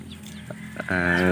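A breeder's rooster gives a short, nearby call that swells into a loud, harmonic crow near the end, preceded by a few quieter clucks.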